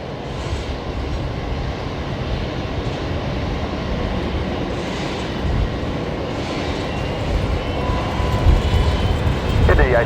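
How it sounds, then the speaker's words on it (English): A jet aircraft takes off from runway 19 left at Brisbane Airport, a steady broad roar that swells louder toward the end, with radio voices talking over it. "Runway 19 left, cleared for immediate takeoff."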